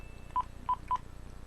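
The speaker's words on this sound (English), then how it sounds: "what I'm going to do now is actually call the number that I have" Three quick telephone keypad dialing tones, crisp beeps in a short uneven sequence while calling an 800 number, close and clear over a faint background hum.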